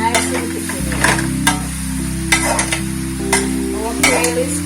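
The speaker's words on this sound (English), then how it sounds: "Our kale is cooking." Kale chop suey sizzles and fries in a pot while a spoon stirs it at intervals, with a steady close hiss and a low hum from the stove underneath.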